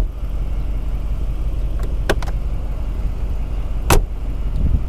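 Mercedes-AMG G 63 door slammed shut hard, giving a couple of sharp metallic thuds, the loudest near the end, over a steady low rumble of the vehicle's surroundings.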